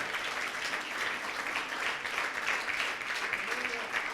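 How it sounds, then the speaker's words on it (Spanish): A church congregation gives a sustained round of applause, a dense, even wash of clapping heard from a moderate distance, with voices mixed in beneath it. "Denle un fuerte aplauso a Jesucristo."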